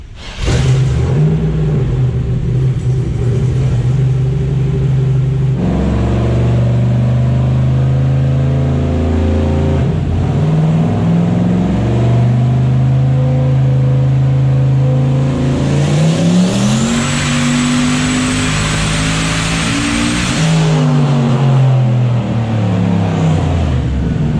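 Turbocharged car with an 88mm turbo revving hard on a dyno, a loud sustained engine roar that climbs and drops through several pulls, ending in a high shrill turbo scream near the end.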